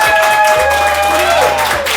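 Audience applause at an Estonian team quiz, voting for the red team: steady, dense clapping from a crowd, continuous and loud, with a faint tonal hum underneath.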